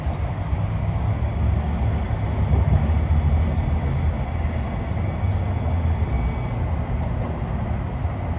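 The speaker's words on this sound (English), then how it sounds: "And here we see a light rail train making a reverse move." A light rail train reverses at a busy New Jersey Transit area, giving a steady low rumble of wheels and motors, fairly close and continuous, with faint high squeals over the top and no voices.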